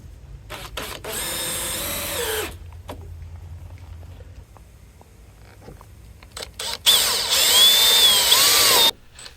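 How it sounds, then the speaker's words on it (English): Two bursts of a power drill whining as it pre-drills near the end of a TimberTech composite deck board, the first shorter, the second louder and pitched up, separated by quiet clicks. "TimberTech does want you to pre-drill when you're within an inch from the end of the board."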